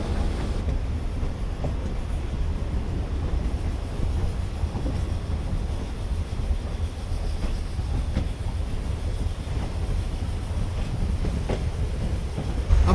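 A DEMU train runs on the railway line between Agasthiyampalli and Thiruvarur, heard from on board as a steady low rumble with faint periodic wheel clicks, continuous and even throughout.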